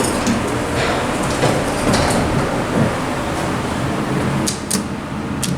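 A big traction elevator's door slides along a flat door track in a parking garage, a steady rumbling scrape running throughout, with a few sharp clicks near the end.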